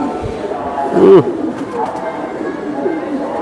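Silver pankhi pigeon cooing once in a short low burst, close by, with faint chatter and background voices around it.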